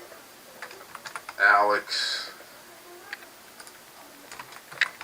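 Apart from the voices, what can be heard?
typing on a computer keyboard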